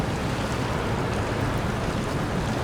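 In the SnowRunner video game, a Tuz truck ploughs through deep water, a constant loud rushing wash of water over a low engine rumble, with no talk.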